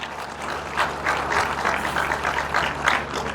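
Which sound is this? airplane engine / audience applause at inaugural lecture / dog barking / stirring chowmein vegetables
audience applause at inaugural lecture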